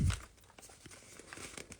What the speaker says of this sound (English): I'm going to take this and I'm going to fold it towards me.